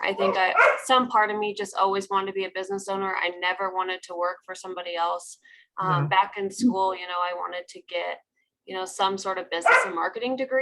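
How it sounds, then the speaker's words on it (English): Dogs bark in the background at home, scattered yips and barks mixed under someone speaking steadily close to the microphone. "I'm sorry for my dogs in the background."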